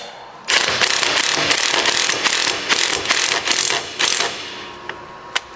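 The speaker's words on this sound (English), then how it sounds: "Take my impact, I'm going to run it up" Impact gun running a lug nut onto a stud on a 2004 Polaris Ranger 6x6 wheel, a loud, close rapid hammering rattle in pulsing bursts that ends in a few sharp clicks.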